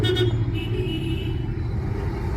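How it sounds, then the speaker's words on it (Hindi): A car rolling downhill in neutral with the brakes applied during a driving lesson, a steady low rumble from inside the cabin, continuous and even with no talk. "मैं आराम से न्यूट्रल पे चला रहा हूँ क्योंकि डाउन स्लोप है, धीरे धीरे चलेगी"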